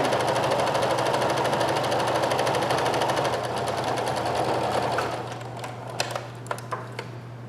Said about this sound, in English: So I'm going to sew those together, good sides together. Again with a narrow zigzag.